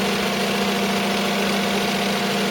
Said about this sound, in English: the machine will do the finishing stitch for the bunny